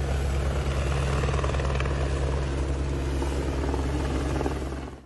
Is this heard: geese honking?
no